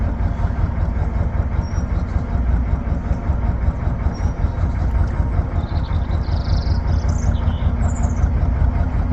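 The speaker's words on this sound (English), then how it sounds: "This is a mid-engine boat" A mid-engine boat's engine runs with a continuous low rumble, steady throughout, loud and close, with faint high chirps above it.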